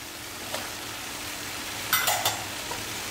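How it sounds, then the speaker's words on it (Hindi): Diced onion and capsicum for kadai paneer stirred in a hot pan, with a low steady sizzle broken by a few light metallic clinks and scrapes of a spoon, grouped near the end. "और अभी सबको मिक्स कर देंगे अच्छे से।"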